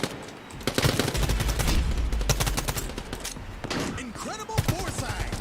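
Rapid bursts of automatic gunfire from the video game Quantum League crackle loud and close in dense volleys, with a brief pause and then scattered shots and electronic effects near the end.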